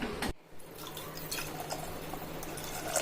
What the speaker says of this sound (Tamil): ஒரு டம்ளர் க ரவை போ பார்லி போட்டிருக்கோம் ஒரு மூணு டம்ளர் தண்ணி ஊற்றிக்கிடலாம்